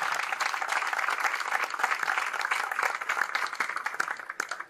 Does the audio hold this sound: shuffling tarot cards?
no